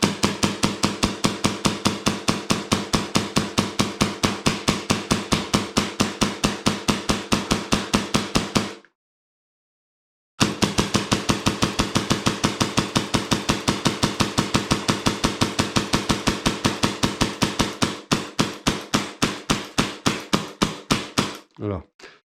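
A custom airsoft replica fires BBs in long, rapid, evenly spaced bursts, loud and close, with a short silent gap between strings and an irregular, stuttering misfire near the end as the magazine runs empty.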